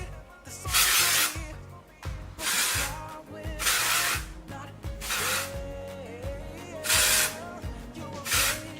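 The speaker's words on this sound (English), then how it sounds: "I'm going to just lightly spray it through all of my waves" Short hissing bursts of an aerosol dry shampoo sprayed through wavy hair repeat in a steady rhythm, about six puffs, each loud and close, with faint background music underneath.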